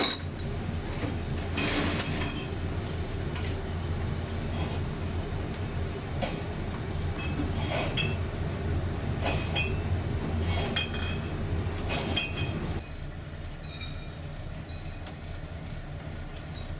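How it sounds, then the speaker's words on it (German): A train passing on the line toward Uelzen, Germany, in 2019: a steady rolling rumble with repeated metallic clinks and rattles that drops away near the end, fairly quiet and without talk. "Das ist noch ein Zug."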